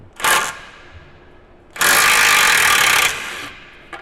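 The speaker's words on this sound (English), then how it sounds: "first we're going to take the nut off for the ball joint on the outer tie rod" A power tool takes the ball joint nut off the outer tie rod of a Mercedes W204 C300, with a short burst followed by a longer loud whirring run of about a second and a half, close up.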